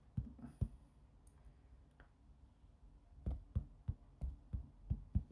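Fingers tap repeatedly on a misbehaving tablet's on-screen keyboard, producing soft, close taps, a few early on and then a steady run of evenly spaced taps, with no talking.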